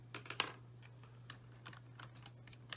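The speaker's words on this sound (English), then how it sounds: "if you type it in your calculator" Keys tapped on a calculator while entering numbers: a quiet, close run of light, irregular clicks over a low steady hum, with no voices.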